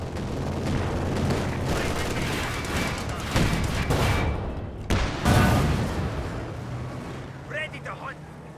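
Company of Heroes 2 battle sounds: a string of loud gunshots and blasts, including sniper rifle fire, crack over continuous battlefield rumble while a voice commentates throughout.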